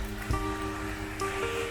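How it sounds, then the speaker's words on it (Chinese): Heavy rain falls at night where a tree has come down onto a car, a steady close hiss with a faint low hum running underneath and a brief bump near the start. "因为现在太大雨了"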